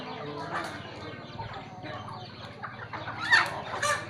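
Chickens cluck nearby in short repeated calls, a few brief sharper squawks toward the end over a low steady background hum.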